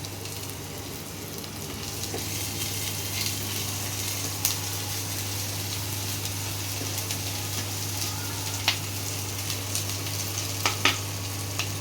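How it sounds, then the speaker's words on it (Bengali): Onion frying in oil with a dried red chilli and a bay leaf added, a continuous sizzle with occasional crackles and pops, close and steady, no talking. "একটা তেজপাতা দিয়ে দিলাম।"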